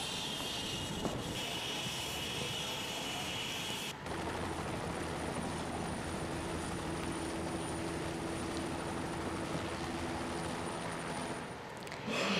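A helicopter's engine and rotors drone steadily, a loud, continuous mechanical hum with a faint higher whine, after a brief burst of a different noise at the start.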